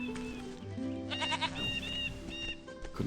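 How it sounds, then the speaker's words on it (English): Goat bleats in the fantasy role-playing game Ultima IX: Ascension, several wavering calls over a busy game soundtrack and ambient tones. "Couldn't walk past that goat for a second there."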